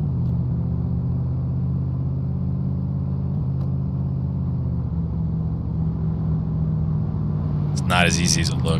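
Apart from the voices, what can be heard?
go-kart driving on a track in video game DayZ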